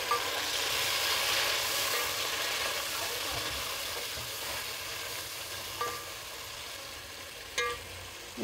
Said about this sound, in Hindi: तो इसको ज़रा भून लेते फ्राई कर लेते थोड़ा